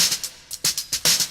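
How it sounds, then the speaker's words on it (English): Unchopped hi-hat percussion loop for a game soundtrack, crisp bright ticks in an uneven repeating rhythm, loud and slightly distorted, with no voice over it. "So that's what it would sound like on its own if I didn't chop it up."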